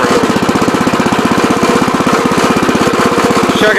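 Terramite compact tractor loader chugging along in low gear with its bucket raised, a loud, close diesel knock pulsing in a fast, even rhythm that holds steady throughout.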